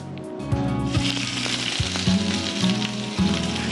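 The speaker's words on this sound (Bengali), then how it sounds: "প্রথমে পেঁয়াজগুলো ভেজে নিই আগে।" Onions fry in a hot pan with a loud, steady sizzle, broken by a few sharp knocks and scrapes as they are stirred, close and without talk.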